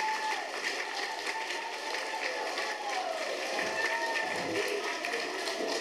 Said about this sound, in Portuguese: Um forte aplauso para o Centro Quibrahacha.